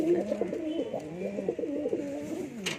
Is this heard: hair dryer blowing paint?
no